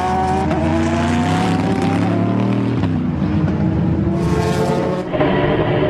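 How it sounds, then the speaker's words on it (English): A GT race car roars at full throttle around the Paul Ricard circuit during a 2009 FIA GT round, a loud, sustained engine note that shifts pitch sharply near the end, with no speech over it. "into the pits for the second time comes the number 1 car"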